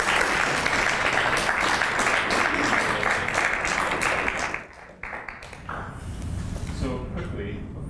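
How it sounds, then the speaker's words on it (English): Audience applause for the candidates at a 2016 Juneau municipal candidates debate, a dense steady round of clapping that thins out midway and continues more sparsely with some voices near the end. "Can we have a round of applause for our candidates?"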